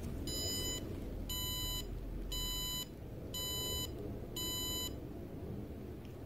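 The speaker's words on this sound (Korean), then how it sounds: "그냥 그때 한번 알람을 울리고 끝냅니다." Five bursts of a rapid electronic alarm from a Raspberry Pi 4 and FPGA-ARM MCU internet digital clock, each about half a second long and evenly spaced, sounding close and clear over a steady low background hum.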